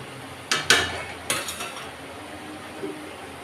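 A cooking pot lid lifted off in a home kitchen while a Bengali curry simmers: a few sharp metallic clanks and scrapes in quick succession, close and fairly loud, followed by quieter faint clinks.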